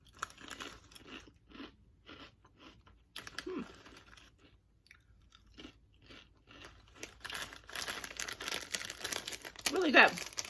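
Someone crunching on thick-cut, hand-cooked black pepper potato chips, close bites and chewing scattered over the clip, getting louder toward the end, with a bag crinkling briefly near the finish.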